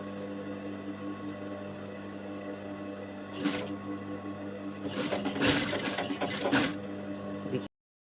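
Sewing machine stitching a zippered stand-collar sweatshirt, a steady motor whir with rattling needle clatter that swells louder near the end before stopping abruptly.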